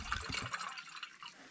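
Half a litre of water poured into a pot for a Trangia Micro Light camping stove, a brief splashing gush that settles into a quieter trickle, faint and close.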